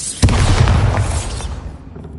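A Bombarda spell explosion in the Hogwarts Legacy video game, one loud booming blast that bursts suddenly and rolls off over about a second and a half, with no talk over it.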